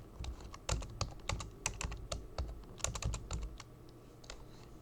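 Close, steady typing of C program code on a computer keyboard, with quick clusters of sharp key clicks and brief pauses between bursts, no voice present.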